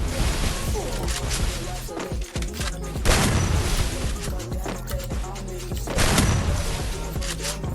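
Video game gunfire in Free Fire, with repeated bursts of loud shots and booms arriving in clusters, close and dense, and someone talking excitedly between them.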